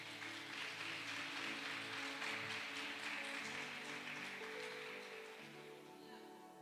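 A church congregation breaks into sustained applause during a sermon, a dense rain-like patter of many hands that carries on evenly and then gradually fades, set against a low background hum.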